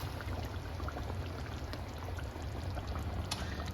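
Half a can of thawed coconut milk poured into chicken curry that has been cooking without liquid, giving a steady, close, continuous liquid rush for a few seconds with no talking.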